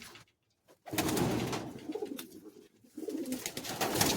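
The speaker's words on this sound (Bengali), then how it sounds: "দেখুন সব পায়রা আপনাদেরকে ছেড়ে দেখাচ্ছি" Flying pigeons at a loft coo in low, throaty bursts after a short quiet start, close by and fairly steady, with a brief pause midway.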